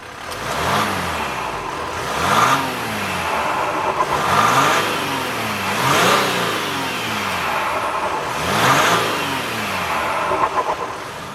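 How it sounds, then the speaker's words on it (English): A 2021 Ram 1500 EcoDiesel pickup's diesel engine revs up repeatedly, rising through the gears with a loud, gruff drone, the pitch climbing and dropping every couple of seconds. "It's only when you really put your foot down do you start to hear that diesel engine."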